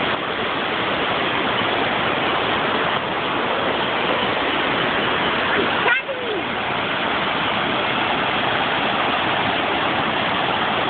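Heavy water rushing at Maroondah Reservoir after rain, a steady, loud, broadband roar that runs unbroken throughout, with a brief knock midway.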